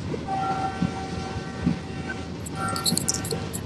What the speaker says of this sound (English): I would like to apologize uh, as I am sitting inside the train